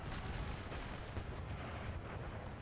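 Mortar and artillery fire in an American Civil War game makes a dense, continuous rumble of distant booms with no clear gaps.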